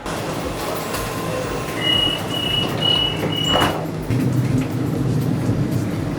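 A Sydney T1 line train running, with a loud continuous rumble of wheels on rails, a few high tonal squeals and a short burst of screech partway through, heard from inside the carriage.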